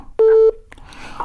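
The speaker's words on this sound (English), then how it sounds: "I got a phone call." A phone makes a single steady electronic tone for about a third of a second as a call comes in, fairly loud and close, followed by faint room noise.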